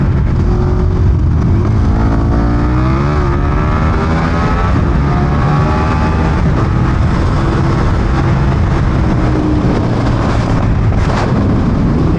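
A KTM Superduke 1290 R motorcycle accelerates hard, its engine loud and close, with the roar climbing through rising harmonics that sweep upward in steady pulls across the whole stretch, with no talk over it.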